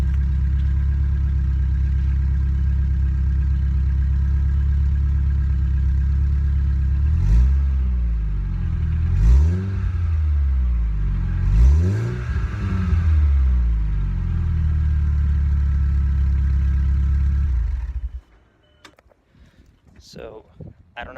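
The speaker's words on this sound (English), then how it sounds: "I'll now rev it for you guys a little bit" A car engine with a new exhaust idles with a deep, loud rumble, then revs sharply three times, each rising and falling, before cutting to quieter background noise.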